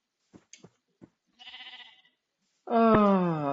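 A sheep in the Hungry World Web3 Minecraft-style game lets out a loud, drawn-out bleat near the end, preceded by a few soft taps and a shorter, quieter wavering bleat.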